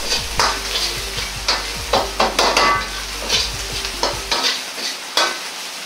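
Garlic, ginger and doubanjiang stir-fry in hot oil, a close frying sizzle punctuated by rhythmic spatula scrapes and knocks against the pan; the sizzle drops away near the end while stirring clacks continue.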